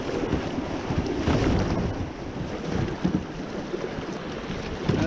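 Kayak running river rapids and big waves on the Thames below Fanshawe Dam, a continuous rushing, splashing roar of churning water with wind buffeting the microphone.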